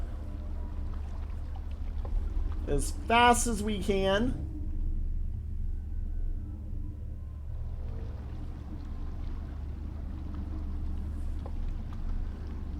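A boat in the video game Outer Wilds races across water with a steady low rumble of engine and rushing water running throughout, while a voice talks briefly over it near the start.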